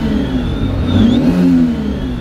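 A loud simulated engine note from an electric-converted Toyota AE86 revs higher, holding a close, sustained drone that swells briefly in the middle, heard alone without talk.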